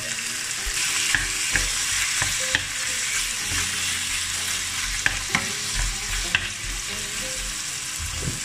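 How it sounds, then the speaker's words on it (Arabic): Chicken breast fries in vegetable oil in a pan with a strong, even sizzle close by, punctuated by several light clicks and scrapes from stirring. "غادي نخلي اللحم ديالي او صدر الدجاج يتشحر واحد شويه"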